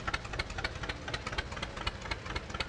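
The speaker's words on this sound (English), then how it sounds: "that's always the smoothest sounding tractor" An antique tractor idling in a parade, its engine chugging with a rapid, even knocking beat, steady and fairly close, with no talk over it.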